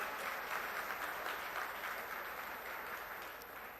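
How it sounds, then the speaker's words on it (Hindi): Sustained, dense crowd applause fills a political rally in Kurukshetra, steady and loud throughout without any pause. "जोरदार तालियों में श्री अरविंद केजरीवाल साहब"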